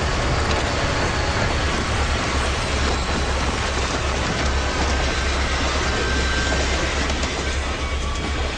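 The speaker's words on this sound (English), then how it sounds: "It's just a train. It doesn't happen that much, mostly at night." A train rumbles past steadily and loudly with continuous rattling wheel noise and low-frequency roar throughout, no pause.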